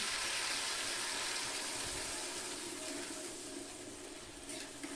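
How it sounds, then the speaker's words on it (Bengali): Water pours into a pan of crab curry, the crab already fried down in oil, giving a steady, close splashing rush that holds fairly even and eases slightly toward the end, with no talking. "এবার আমি কাঁকড়া ভিতর জল দিয়ে দিব"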